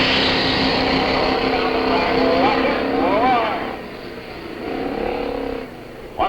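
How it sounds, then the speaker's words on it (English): Ford stunt cars in a Hell Drivers thrill show race around toward the ramps, their engines droning loudly and steadily with rising revs, under a commentator talking over the noise throughout. "they'll whip those Fords around and come racing back for their first trip through"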